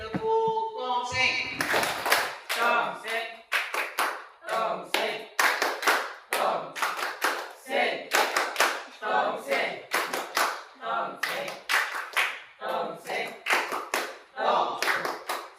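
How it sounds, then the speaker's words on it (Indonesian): Classroom students stand and clap in unison in short bursts of rhythmic chant-style claps, loud and close, repeating steadily with brief pauses between rounds and voices chiming along. "Tepuk tangan."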